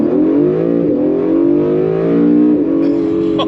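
An Acura NSX launches hard from a standstill on launch control, its engine note rising loud and steady with a brief dip at each gear change, close and with no talk over it.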